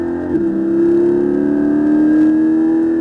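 A Porsche 718 Cayman GT4 accelerating out of a corner on a race circuit, its engine note climbing steadily in pitch as a loud, close, sustained drone with no talk over it.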